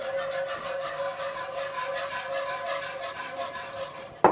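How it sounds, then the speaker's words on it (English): Heavy cream being whisked into a reduced bacon, blue cheese and sage sauce in a pan, a steady continuous scraping and swishing of the whisk throughout, close and moderately loud with no talking. "now I'm just going to go ahead and whisk in our cream, our heavy cream"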